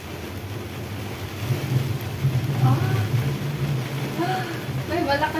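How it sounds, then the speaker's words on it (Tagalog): Steady roar of heavy rain with gusting wind buffeting the microphone, heard from a stopped cable car, continuous and loud throughout, with faint voices underneath. "Malakas yung hangin at malakas yung ulan."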